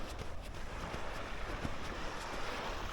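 Steady wash of Baltic Sea surf on a beach at Kępa Redłowska near Gdynia rolls on continuously, broad and rushing, with gusty wind buffeting the microphone and no voices.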